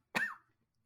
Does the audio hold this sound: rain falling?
no